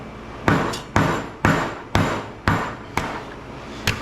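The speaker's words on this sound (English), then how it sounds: "it'll come apart a lot easier if you hit it like this in the corner with the back of the hammer." The back of a hammer strikes the corner of a scrap electric motor casing to crack it open: about eight sharp metallic blows land in an even rhythm roughly every half second, close and loud, each with a short ringing decay.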